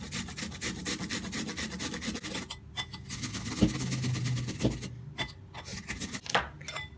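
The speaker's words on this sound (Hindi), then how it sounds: "तो हम लेंगे सबसे पहले खीरा, मैंने लिया है, मैं इसे ग्राइंड कर लूँगी।" Cucumber is ground by hand, producing rhythmic, rasping strokes that repeat steadily and close up with a few brief pauses.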